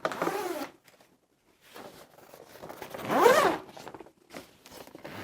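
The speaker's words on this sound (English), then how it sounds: "one thing that makes this really easy to close up is half of your flaps are zips." Zippers on the flaps of a camera gear bag being pulled closed in two loud, close bursts, the longer second pull rising and falling in pitch, with quieter fabric rustles and handling between them.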